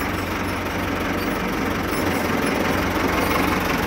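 A vehicle engine runs steadily on a test run after start-up, a loud, close, even rumble with a faint knocking texture and no talk.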